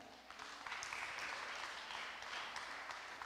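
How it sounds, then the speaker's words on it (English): A primary school graduation ceremony audience claps throughout, a faint, even spread of many hands in a large room. "Let's keep the applause going."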